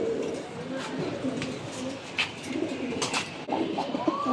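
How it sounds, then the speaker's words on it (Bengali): Giribaz pigeons coo in soft, repeated throaty phrases close by, with muffled voices and light shuffling behind them. "আজকে আপনাদের জন্য কিছু কবুতর থাকবে ভালো ভালো মানের কিছু কবুতর থাকবে"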